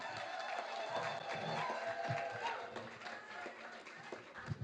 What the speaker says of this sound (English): And with a standing ovation and a huge, arousing noise, of course, and a huge applause, like the South Africans do